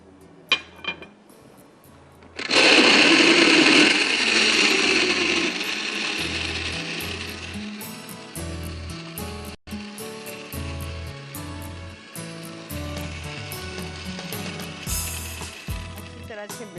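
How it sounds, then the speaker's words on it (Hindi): A blender grinds frozen blueberries, kicking in suddenly as a loud, dense roar that gradually eases over several seconds before fading beneath background music. "अच्छी तरह से ब्लेंड कीजिए।"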